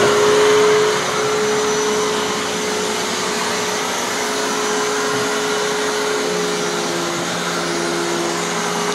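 A vacuum cleaner runs loud and close while cleaning a foyer chandelier, its steady whining roar holding throughout without a break.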